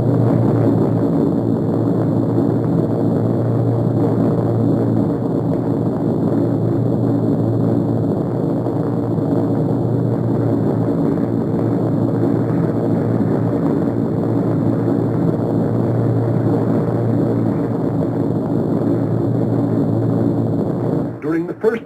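Steady, droning propeller bomber engines hum continuously at cruising speed during a long flight, a loud, even roar with strong low tones from start to finish and no break.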